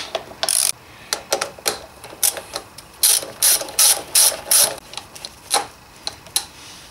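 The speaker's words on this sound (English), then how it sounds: "Now simply get those two bolts out." Ratchet wrench loosening brake caliper bolts on a Suzuki RF 900 motorcycle, a series of crisp clicking bursts in uneven strokes, close and clear with no voices.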